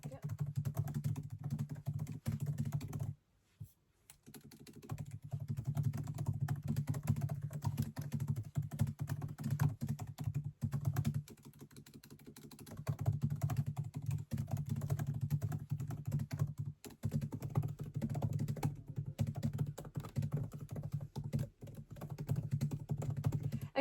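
Quiet, steady typing on a computer keyboard during a home writing session, close and soft with short pauses and a low hum underneath.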